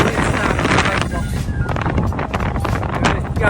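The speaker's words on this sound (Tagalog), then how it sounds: "Grabe yung hangin." Strong wind roars across the microphone on a bike ride up the mountain road of Jebel Jais, a continuous loud buffeting rush with gusts and no break.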